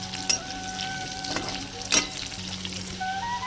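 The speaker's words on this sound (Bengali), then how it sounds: "আর এদিকে আমার আলুগুলো সব ভাজা হয়েছে, আলুগুলো আমি তুলে নেব।" Potatoes fry in a pan of oil in a village kitchen, giving a continuous soft sizzle with a few sharp clinks of a utensil against the pan.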